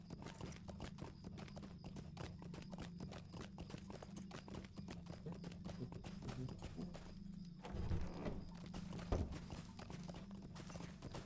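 Horse hooves clip-clop in a steady walking rhythm in the online game Lord of the Rings Online, close and continuous over a low ambient hum, with a brief whinny-like stir near the end.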